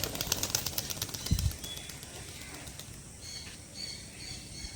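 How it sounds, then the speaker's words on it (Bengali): A racing pigeon, a competition bird, is released and its wings clap in one brief, loud flutter near the start of the take-off, then fade into outdoor ambience with faint bird chirps. "ছাড়বো পায়রাটা, ঠিক আছে?"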